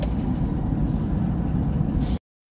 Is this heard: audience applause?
no